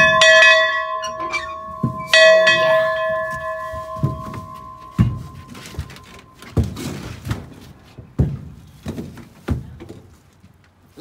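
Church bell in a cathedral, a couple of bright ringing strikes with long sustained tones in the first seconds, followed by a series of dull thunks and knocks at a steady pace.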